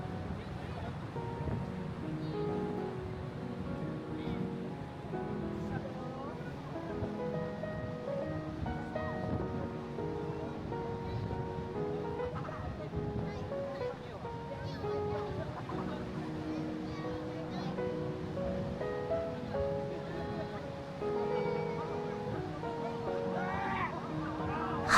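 Open-air deck ambience aboard the Hankyu Ferry Yamato on the Kobe to Shin-Moji route, with a steady rush of wind and waves that holds at an even level throughout, and faint tonal sounds running underneath.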